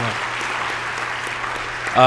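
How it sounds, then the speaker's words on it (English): Audience applause fills a college convocation hall for a Martin Luther King Jr. Day event, a steady wash of clapping that swells louder at the very end. "Let's give another round of applause for sharing so much with us"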